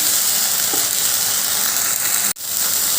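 Tomato, ginger and green chilli paste fries in a pan with a steady, bright sizzle. It runs loud and continuous for the whole stretch, with a brief cut-out just before the end and no voices.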